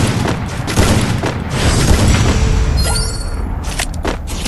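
Heavy gunfire in the Garena Free Fire battle royale game, with loud booming shots and rapid bursts rolling continuously over a dense, noisy battle background.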